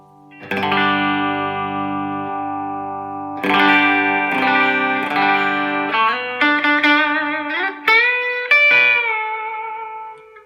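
A Corsa LCPG electric guitar on an out-of-phase pickup setting, with a thin, hollow tone, plays sustained chords and then a run of single notes, loud with some reverb.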